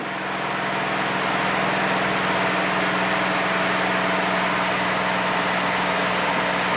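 A small airplane engine drones steadily in flight as the RPMs are pulled back, a loud continuous hum heard from inside the cabin with no talking.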